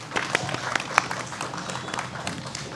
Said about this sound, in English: Please give a round of applause to the speakers, everyone.